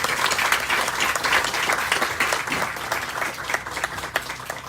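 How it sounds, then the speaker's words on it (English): A crowd applauds at the HOPE Clinic groundbreaking ceremony in Houston, with dense, steady clapping throughout. "How about a round of applause?"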